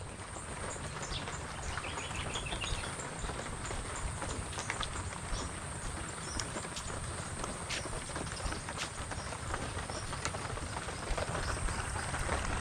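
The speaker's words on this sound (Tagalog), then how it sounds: "Bigla na lang na orada ang ulan." Sudden heavy rain patters densely on a surface, with scattered louder drips and knocks throughout; no one speaks.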